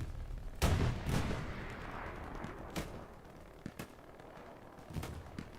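Rockets fire and land in a Hell Let Loose competitive match: several loud, booming blasts with rumbling tails, the strongest early on, then sparser, more distant thuds over constant battlefield noise.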